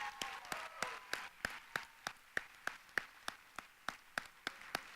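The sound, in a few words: audience applause for project finalists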